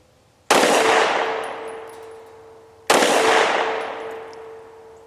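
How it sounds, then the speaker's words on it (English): Two loud, sharp shotgun blasts from a Rock Island Derya DY9, each with a long ringing decay, spaced a couple of seconds apart outdoors. "shooting a bit on the low side"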